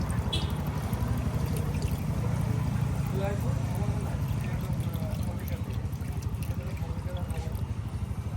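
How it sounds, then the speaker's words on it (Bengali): Water poured into the radiator of a Nissan Juke during engine head gasket work, a steady gurgling trickle under a constant low rumble, with a voice speaking over it at times. "পানি নাই, তো আমরা এটা পানি ঢেলে নেব আগে।"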